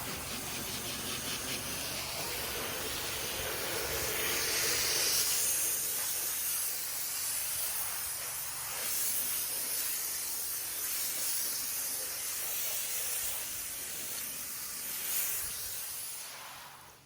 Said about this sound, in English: watch us rinse this vinyl siding safely